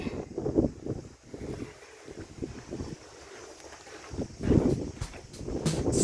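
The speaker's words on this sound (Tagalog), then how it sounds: "Ayan ang hangin." Steady wind rumbles and buffets the microphone on a hiking trail on Cheung Chau Island, Hong Kong, gusting louder at the start and again toward the end, with no voices.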